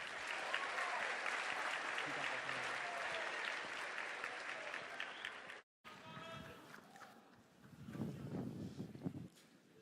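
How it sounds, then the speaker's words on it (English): A high school Colors Day audience gives dense, steady applause for a student duet, dying away after several seconds as scattered noise and movement follow. "Please give them a round of applause."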